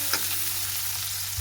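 Chopped onions fry in a hot pan with a brief, steady sizzle that holds evenly throughout, close and with no voices.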